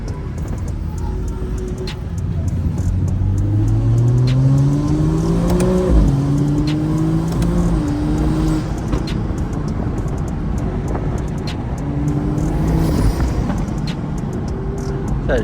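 A BMW N55 flex-fuel engine revs and accelerates hard, pitch climbing through repeated gear pulls with brief dips at each shift, loud and close over road and wind noise.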